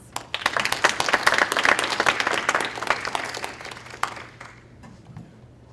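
Audience applause at the 2019 eCities reception, a burst of many hands clapping that swells, holds for a few seconds and then thins out to scattered claps before fading.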